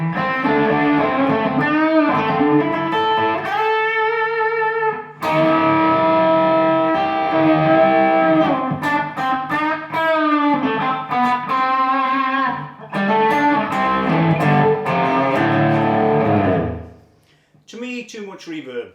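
Electric guitar played through a Boss GT-1000 on the Blues Guitar TX preset, loud distorted sustained notes and bends with heavy reverb tails, several phrases separated by short pauses, ending with a brief decaying lick.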